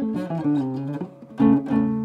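A nylon-string classical concert guitar plays a short, soft melodic phrase of plucked notes with rounded attacks, close and moderately quiet, with no voice over it.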